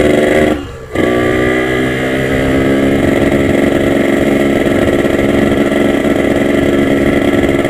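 A Yamaha RX-King motorcycle engine idles close by, a steady loud two-stroke rumble that dips briefly near the start and then runs on evenly with no voices.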